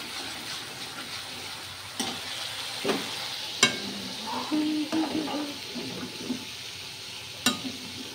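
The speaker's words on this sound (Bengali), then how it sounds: "এক হাতে মশলা কষাচ্ছি" Spices sautéing and being stirred in a pan for a fish curry, a low steady sizzle broken by sharp utensil knocks and scraping clatters at irregular intervals, close and moderately loud.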